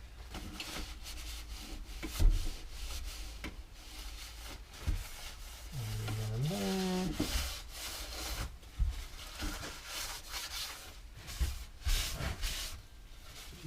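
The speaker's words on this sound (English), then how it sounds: "I'm going to just give this a wipe because that's really nasty and greasy." A cloth rubs back and forth over a greasy wooden boot rack in repeated close scrubbing strokes, with a brief rising squeak partway through.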